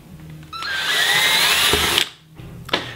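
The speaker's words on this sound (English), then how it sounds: "The next step is you're gonna drill a little hole in the top." A drill bores a small hole through a plastic water bottle cap, giving a close, loud, high whir for about a second and a half, then stopping with a few faint clicks and handling noises.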